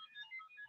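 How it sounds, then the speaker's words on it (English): A short, quiet electronic ringtone plays a quick sequence of bright beeping tones, like a phone alarm going off. "That's my alarm to remind myself to eat."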